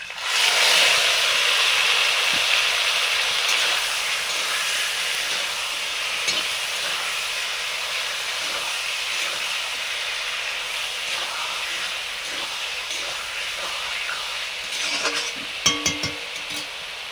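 Marinated snakehead fish dropped into hot oil with dried chillies and bay leaves, a loud sizzle and hiss that settles to steady frying, with clinks of a utensil stirring near the end.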